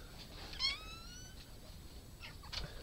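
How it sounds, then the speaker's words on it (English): A house cat at a rural studio home gives one short, faint meow over quiet room hiss, followed by soft stirring noises. "I have a cat here."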